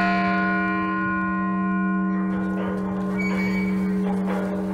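Bells ring out at MSU Billings on a Martin Luther King Jr. Day commemoration, steady sustained tolls with long ringing overtones, loud and continuous, with some background noise from the crowd or street.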